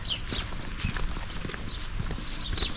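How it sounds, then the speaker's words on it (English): Horses walking along a road in Bolton by Bowland, hooves clip-clopping in a steady, moderately close rhythm over outdoor background noise, with birdsong above. "The horses."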